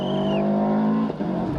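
A rally car on a stage of the 1996 Galway International Rally roars close by, its engine note holding high, then dipping briefly as it shifts or lifts before pulling on.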